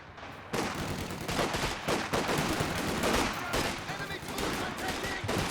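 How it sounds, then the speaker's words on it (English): Machine gun fire rattles in Company of Heroes 2 combat, a sustained burst of rapid crackling shots that starts abruptly and continues loud and dense, with brief dips between volleys. "Machine guns very defensively planted."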